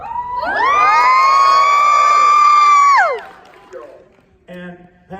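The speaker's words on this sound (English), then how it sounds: "There's our crowd from Anime Dallas." Convention crowd at the Anime Dallas closing ceremony letting out a loud, sustained cheer that swells for about three seconds and then drops away, followed by brief noisy chatter.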